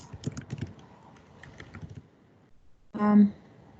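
Fingers type on a computer keyboard in a quiet room, a quick patter of key clicks for about two seconds, then a short pause and a final brief burst of louder clacks.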